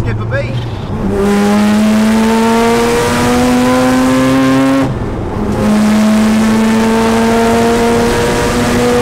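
Mazda RX7 time attack race car revving hard, two loud rising engine pulls with a short lift between them, very close and dominant.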